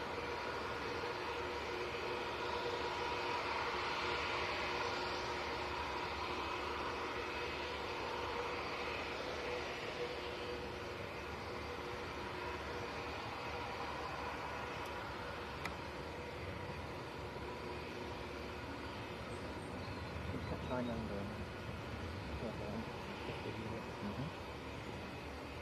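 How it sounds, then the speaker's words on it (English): A Lufthansa Airbus A321 bound for Frankfurt at Manchester Airport produces a continuous broad jet roar with a faint whine on top, holding steady and moderately loud for the whole stretch. "So this is Lufthansa to Frankfurt"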